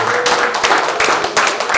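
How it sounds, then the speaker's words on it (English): An audience at the Bop Stop music venue applauds, a dense, lively round of clapping close by with a few distinct claps poking through the steady wash. "Let's give a round of applause for Brian."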